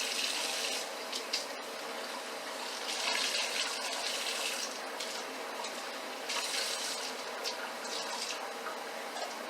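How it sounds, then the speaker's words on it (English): Tap water runs steadily into an ice tray in a home kitchen, a bright hissing gush that swells and eases slightly as the tray fills, with no talk. "I have to fill up my ice tray"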